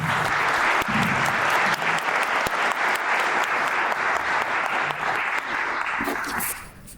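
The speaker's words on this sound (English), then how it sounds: "Let's have a round of applause for our legislative leadership." A large audience at an Indiana gathering gives sustained applause for its legislative leadership. The clapping is thick and even, holding steady for several seconds before dropping away in the final moment.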